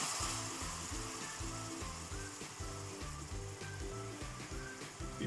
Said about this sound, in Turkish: Şimdi kaynamakta olan fasulyemizin suyuna şöyle iki kepçe kadar vereceğiz ve sosumuzu açacağız